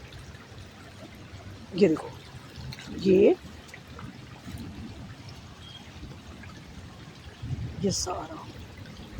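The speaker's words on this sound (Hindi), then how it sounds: "ये देखिए हाईवे की तरफ से पानी आ रहा है" Rainwater from the NH3 highway runs into farm fields near Didwin Tikker village, Hamirpur, as a steady outdoor trickle and pour beneath someone speaking Hindi.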